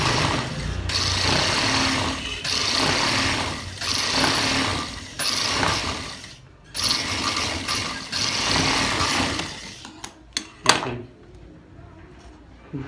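A sewing machine stitches a gents' kameez collar in bursts, its rapid mechanical whir starting and stopping several times, close and fairly loud, ending with a few sharp clicks.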